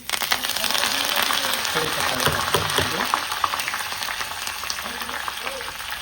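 Spice tempering with coriander powder, turmeric and red chilli sizzling in hot oil, a dense continuous crackle and hiss throughout with faint talk beneath.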